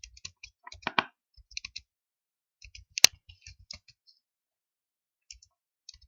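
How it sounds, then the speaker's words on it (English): Sparse, crisp computer mouse clicks made while stepping through a software installer, some single and some in quick pairs, near and quiet with long silent gaps. "One more time you have to click on next."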